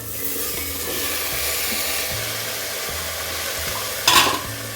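Cauliflower florets and potato pieces are stirred and fried in a pan with sliced onion for a Marathi-style curry, giving a steady close sizzle with scraping stirring strokes and a brief louder clatter near the end.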